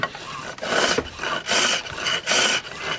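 A flat chisel smooths wood turning on a lathe, giving loud, close rasping scrapes in four or five rhythmic bursts separated by brief gaps, with no talking.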